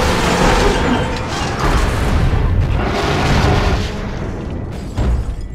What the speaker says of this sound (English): Possible laboratory break-in confirmed by big explosion.